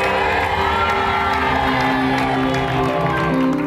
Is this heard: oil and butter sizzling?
no